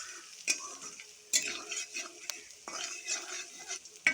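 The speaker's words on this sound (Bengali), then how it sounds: "পরিমাণ মতো হলুদের গুঁড়া, পরিমাণ মতো মরিচের গুঁড়া, এবার ভালো করে নেড়ে চেড়ে মিশিয়ে নেব।" Gourd greens with shrimp are stirred with turmeric and chili powder in a pan, soft scraping and clinking of a utensil against the pot recurring in quick, quiet strokes over a faint sizzle.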